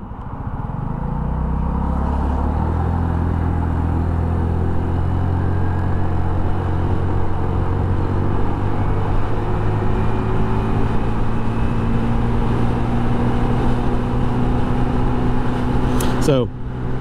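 A 2022 Honda NAVI scooter rides and accelerates at partial throttle, its engine droning loud and close in a steady hum that climbs in pitch early on, then holds with a brief change near the end.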